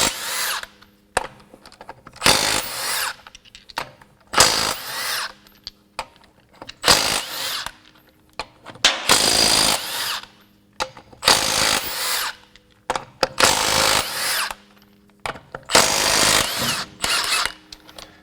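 Milwaukee M12 Fuel stubby cordless impact wrench with a 2.5 amp-hour battery removing lug nuts, loud close bursts of rattling hammering repeated about eight times, separated by short silent gaps.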